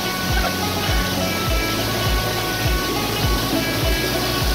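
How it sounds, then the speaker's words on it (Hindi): The Düden waterfall in Antalya, Turkey roars as a steady, loud wash of rushing water, with dull low thumps recurring every half second or so beneath the constant noise. "और मेरे बिल्कुल इस तरफ आपकी वाटरफॉल है दुदन वाटरफॉल"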